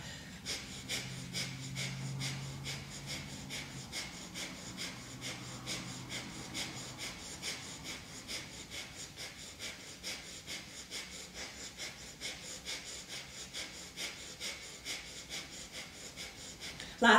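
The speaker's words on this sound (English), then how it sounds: "Can you hear yourself breathing?" Forceful rhythmic breathing during a Kundalini yoga class, steady repeated breaths in quick succession sustained throughout, close and fairly strong.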